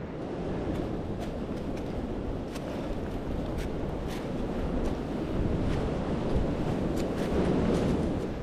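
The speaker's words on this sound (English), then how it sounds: "The wind continues to be brutal." Strong gusty wind roars across an outdoor campsite, a loud continuous rumble battering the microphone that swells slightly toward the end, with no voices.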